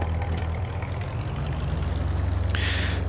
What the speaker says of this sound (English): Start up the engine.